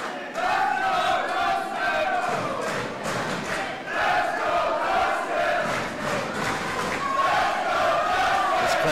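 A wrestling crowd chants and cheers for Dustin Nguyen in loud, rhythmic waves of voices that swell and fade, with a commentator faintly underneath.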